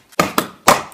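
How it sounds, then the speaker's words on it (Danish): A baseball bat banging on a door: three sharp, loud knocks in quick succession within a second, close and alone, the last strike heaviest. "står og banker døren med et baseballbat"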